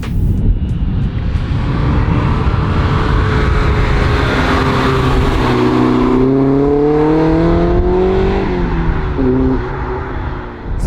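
A BMW E30 M3 engine drones and rises in pitch through the gears from inside the moving car, with a steady loud roar, then climbing revs, a brief lift, and more acceleration.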